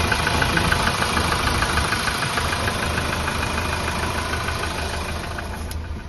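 A Hyundai Porter truck's engine idles steadily nearby, a continuous mid-pitched rumble with a faint knocking pulse and no talk over it.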